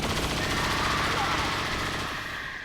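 Loud, sustained automatic fire from a saturation-fire ability in XCOM 2, a dense, continuous roar of rapid shots that fades slightly at the end.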